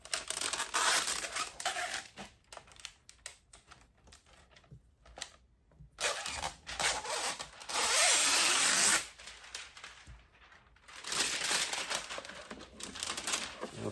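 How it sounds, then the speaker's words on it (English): Backing film peeled off window tint film in a garage workshop: a loud crinkling, crackling rip that comes in bursts with short quiet gaps, close and alone. "we're going to take this special backing off the tint here."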